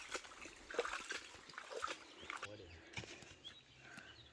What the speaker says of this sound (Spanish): pues ya está aquí el goteo